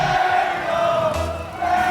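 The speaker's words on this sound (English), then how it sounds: "Daniel's gonna hear another Daniel chant" An arena crowd at a Rocket League World Championship match sustains a loud, droning chant of a player's name, Daniel, the massed voices steady and unbroken throughout.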